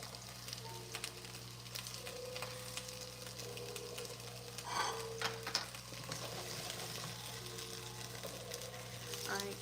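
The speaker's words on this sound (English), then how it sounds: "Now I'm just gonna let this saute." Garlic sautéing in a pan for birria in a home kitchen, a soft, steady oil sizzle with faint stirring and clinks over a low background hum, quiet and continuous.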